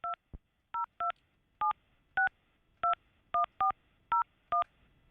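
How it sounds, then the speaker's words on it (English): Touch-tone telephone dialing, about eleven crisp DTMF beeps in quick, uneven succession, clear and alone with no talk. "Do you think that I might have the phone number for the Naval Observatory Master Clock as well?"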